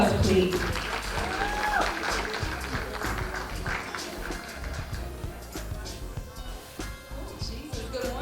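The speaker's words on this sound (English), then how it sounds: "Let's give her a round of applause, please." Applause for a performer on stage at a Black History Month event, clapping mixed with crowd noise and a voice at the start, fading slightly toward the end.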